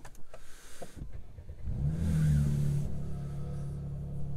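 A 2019 Mercedes-AMG C43 3.0 V6 starts up after a few faint clicks, catching with a loud throaty burst from the exhaust before settling into a steady idle.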